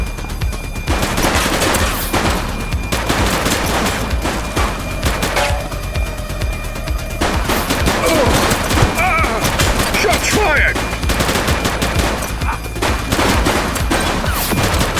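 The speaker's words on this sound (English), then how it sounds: "Light them up! He's shooting!" Sustained bursts of rapid gunfire crackle nonstop through a police shootout with armed suspects in the video game The Precinct, loud and dense, with shouted voices mixed in.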